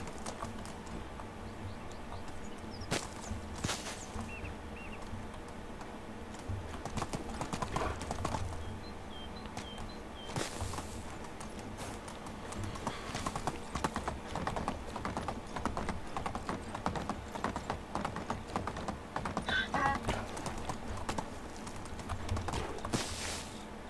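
Horse hooves clip-clop steadily in the medieval game Medieval Dynasty, a quiet rhythmic clatter that keeps going throughout with occasional brief louder knocks, and no speech.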